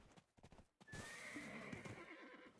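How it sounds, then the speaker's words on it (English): A horse in Black Desert Online whinnies loudly over a steady clip-clop of hooves, the neigh rising and holding near and clear for about two seconds after a brief patch of quieter hoof sounds. "Where's my horse?"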